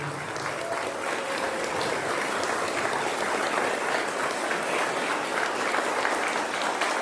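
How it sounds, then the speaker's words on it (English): Sustained audience applause at a graduation ceremony, a dense, even wash of many hands clapping at steady loudness throughout, with no voices standing out. "Can you please give her a round of applause?"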